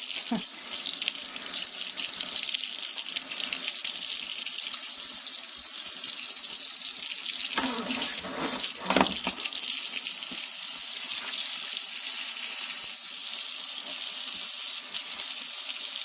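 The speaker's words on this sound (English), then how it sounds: "You can rinse them under the tap" Tap water streams steadily into a sink to rinse items clean, a continuous close hiss and splash that briefly swells in the middle.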